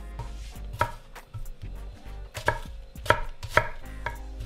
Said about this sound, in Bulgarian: След като почистя лука от люспите, го нарязвам на 2/3.